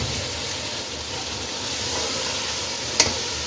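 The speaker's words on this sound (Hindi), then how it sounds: "अब कोफ्तों को इसमें भून लें।" Kofta meatballs fry in a tomato masala for biryani, giving a steady, moderately loud sizzle with a brief clink near the end and no talk.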